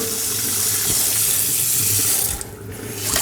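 A kitchen faucet runs cold water over drained tripe in a sink, a strong steady gush that dips briefly near the end before resuming, with no voices.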